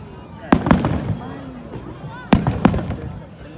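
Canada Day fireworks go off in sharp, loud bangs, two clusters of cracks with a second or so of crackling tail between them, heard outdoors against a faint background murmur.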